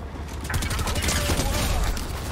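Rapid gunfire in the video game Fortnite, a dense continuous fusillade of shots, loud and close, filling the whole moment.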